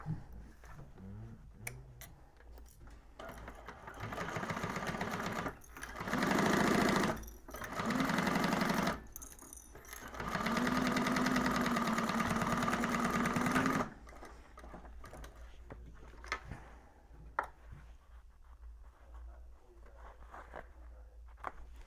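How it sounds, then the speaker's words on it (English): A sewing machine top stitches through a bag lining in several bursts of steady, close whirring, some short and one long run, separated by quieter pauses with small clicks and handling noises. "we're going to top stitch through the lining"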